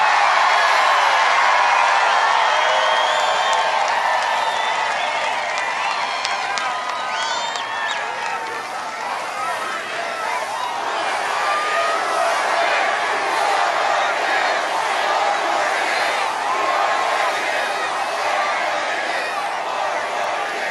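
A large crowd at a Trump campaign rally in Michigan cheers and roars continuously, a dense sustained wall of voices with whoops and clapping that swells and eases slightly throughout.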